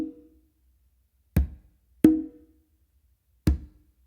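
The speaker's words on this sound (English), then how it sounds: "you're going to do a bass on the conga," Conga strokes played alone in a quiet room: a soft tone fades out at the start, then three sharp hand strikes follow, one quickly after another with a pause before the last, each with a deep low thump and short ringing decay.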